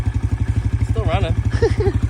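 A snowmobile engine left running, a loud, close, rhythmic low chugging idle that pulses steadily throughout while a person speaks briefly over it.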